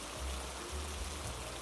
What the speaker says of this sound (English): Dang it! It started raining!